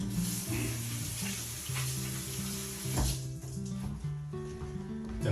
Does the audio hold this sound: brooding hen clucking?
no